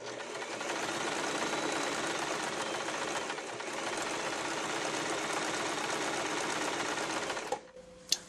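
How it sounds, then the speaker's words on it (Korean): An Elna 1000 sewing machine runs steadily in straight stitching with the foot pedal held down, a close, even mechanical whir for about seven seconds before it stops, followed by a couple of small clicks. "직선 박음질 하실 때는 원단을 넣으시고 이렇게 발판을 그 다음 밟아주세요."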